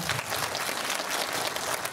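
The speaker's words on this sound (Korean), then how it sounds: "큰 박수 부탁드립니다" A cinema crowd at a film festival screening Q&A claps steadily, a brief, even burst of applause that stays full and continuous from start to finish.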